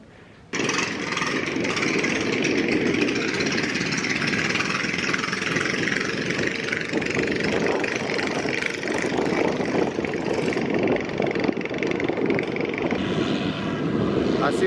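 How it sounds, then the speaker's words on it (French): Loud, continuous drone of traditional fishing boat engines at a Thai stilt fishing village, a steady rough motor roar close by with someone talking over it. "Ah, c'est pas discret ces bateaux là, hein."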